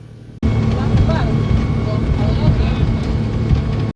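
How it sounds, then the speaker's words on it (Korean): A tour boat motor drones steadily with water rushing alongside near Ushuaia, Argentina, loud and close, filling the whole stretch after a brief quiet start. "이 달리는 배의 모터 소리와 또 물소리"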